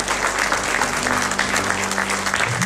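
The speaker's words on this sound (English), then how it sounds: "Give the Lord a hand clap and praise" A congregation claps steadily in sustained applause during a church service, dense and loud throughout, with a faint low musical tone underneath.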